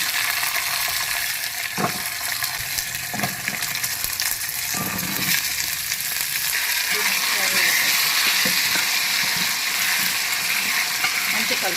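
Washed cranberries (vaakkaya) dropped into hot tempering oil with dried red chillies for an instant pickle, sizzling in a loud, continuous crackle with a few light clanks of the spoon against the pan.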